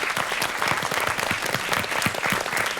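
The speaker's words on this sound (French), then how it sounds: "on va peut-être faire un petit applaudissement" An audience at a talk on World Animal Intelligence Day applauds loudly, a thick, continuous burst of many hands clapping close by, sustained evenly for the whole stretch without speech.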